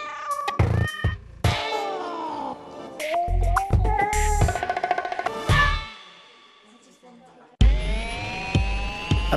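Cats in a cat café meowing repeatedly, several distinct close meows and drawn-out calls separated by short gaps, loud and clear with little else around them.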